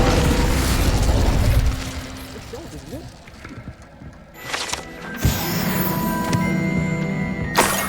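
A burst of flame from the Incendio spell in Hogwarts Legacy lands as a sudden loud pop and whoosh about two-thirds through, after quieter rumbling and speech, then a sustained bright crackle.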